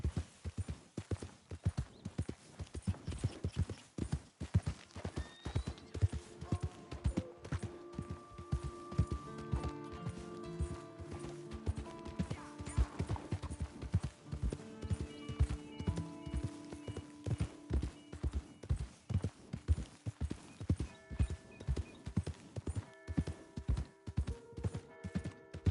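Steady horse hooves clip-clop in a walking rhythm in the video game Red Dead Redemption 2, fairly close, with a soft musical tone underneath and no talking.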